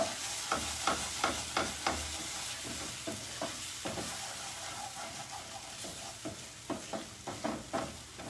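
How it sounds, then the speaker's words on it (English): A spoon stirs a spice mixture into onion tomato gravy in a pan, scraping in a steady series of close, distinct strokes over a soft continuous sizzle. "stir it a little, and then we are going to add this spice mixture into our onion tomato gravy"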